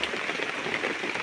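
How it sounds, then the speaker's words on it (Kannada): Heavy rain pours down steadily on a farm, a dense, even hiss of drops striking surfaces close by with no voices. "ಸೊ ಮಳೆ ಸ್ವಲ್ಪ ಜೋರಾಗೆ ಬಂತು"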